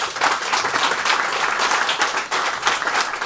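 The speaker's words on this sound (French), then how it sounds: "je crois qu'on peut les applaudir encore." Audience at a sports awards ceremony applauding volunteers, a full, steady burst of clapping from a crowd close by with no talk over it.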